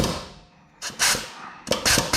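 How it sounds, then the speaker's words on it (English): Two short bursts of rapid, loud pneumatic air hammering on a front brake pin of a Jeep Wrangler JK, close by, separated by a brief pause. "So I am just going to try to use an air hammer here on this lip."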